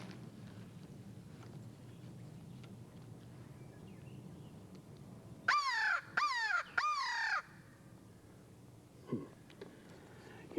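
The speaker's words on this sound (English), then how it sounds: "he didn't gobble at that crow call" A hunter blows a crow call to locate wild turkeys in the woods, three loud harsh caws in a quick row rising over a quiet outdoor background.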